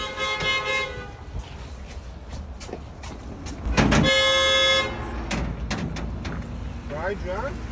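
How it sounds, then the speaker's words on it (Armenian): Car horns honk outside a home in an Armenian family comedy, with several short toots early on and a longer steady blast in the middle, over background noise and voices talking nearby. "Չես լսում որ սիգնալ են տալի"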